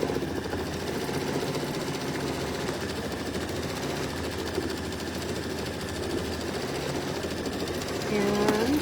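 A quilting machine runs steadily as it stitches a quilt, a continuous mechanical hum and rapid rattle held at an even level throughout, with a faint voice mixed in underneath.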